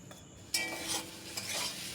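Kochur loti, taro stolons, is stirred with salt and turmeric in a pan, giving a soft sizzle followed by a sudden scrape and steady close stirring with light frying hiss and no talking.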